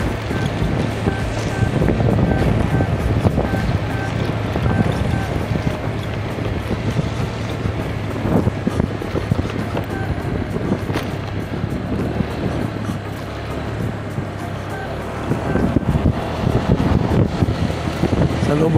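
Motorcycle ride through the farmland hills of Calatrava, Negros Occidental, with heavy wind buffeting the microphone and a steady engine drone running loud and continuous throughout.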